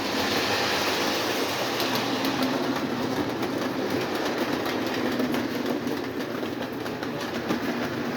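A Lionel Chessie System diesel model train pulls a string of boxcars and a tanker, its steady rolling rumble and light clickety-clack running continuously and fairly close with no talk.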